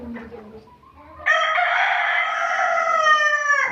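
A desi rooster on a Pakistani chicken farm lets out one long, loud crow close by, after a few soft clucks and low hen murmurs at the start.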